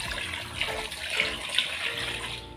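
Plenty of water pours and splashes into a cooking pot of duck eggs being readied for boiling balut, a continuous gushing stream with a few louder splashes, heard alone.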